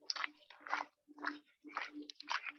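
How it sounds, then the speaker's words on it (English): Quiet, repeated crunchy bites in an irregular rhythm, roughly five clustered chews over a couple of seconds, nearby and alone with no talking. "Sounds like somebody's chewing on something."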